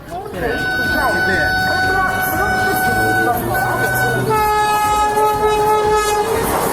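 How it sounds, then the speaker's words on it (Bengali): The Howrah to New Jalpaiguri Vande Bharat Express, a passenger express, roars past close by, its horn blaring in long sustained tones over the clatter of wheels on the rails. "যেতে যেতে আমাদের সঙ্গে দেখা হয়ে গেল train number two two three zero one Howrah two new Jalpaiguri Vande Bharat এক্সপ্রেসের সাথে"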